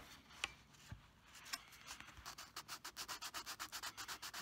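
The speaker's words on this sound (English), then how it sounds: "Just want to sand over the hole." Sandpaper of 320 grit rubs over a guitar body in a quiet room. After a few faint clicks, it settles into a steady run of quick, even back-and-forth strokes, soft and close.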